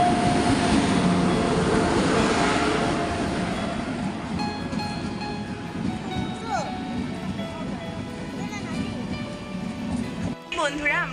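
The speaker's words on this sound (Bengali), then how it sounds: "আমরা ট্রেনে উঠে গেলাম" A passenger train running at night, with a loud continuous rumble and rattle of carriages on the rails, easing slightly after the first few seconds, and squeals and clatter toward the end; the noise is close and fills the whole stretch.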